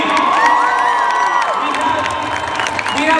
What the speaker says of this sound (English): All right, everybody, a round of applause for Gianni.